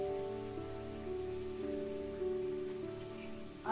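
Bottle gourd greens and vegetables fry in a covered pan, a steady close hiss and crackle with a faint tonal hum underneath.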